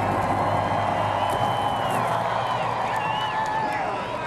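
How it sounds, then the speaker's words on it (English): Race-day crowd fills the Daytona 500 grandstands at a NASCAR Sprint Cup event, a dense, steady roar of cheering spread wide and held at an even level throughout. "You hear the roar of the crowd."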